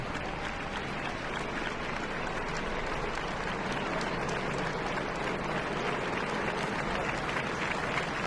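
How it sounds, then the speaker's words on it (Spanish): Guests in the stands at Spain's 2017 national day parade applaud steadily and continuously, a dense, even wash of clapping from a large crowd with faint voices mixed in. "También los invitados en la tribuna les aplauden ahora según van marchándose"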